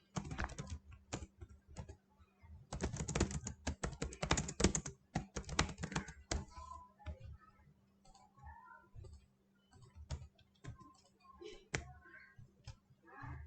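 Someone types on a computer keyboard up close: dense bursts of key clicks in the first half, then sparser keystrokes as a person speaks quietly in between.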